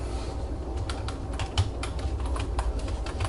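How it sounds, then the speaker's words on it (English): Typing on a computer keyboard, a quick run of close, light key clicks in an uneven rhythm over soft background hum. "I'm just going to type in, you know, www.dropbox.com, right?"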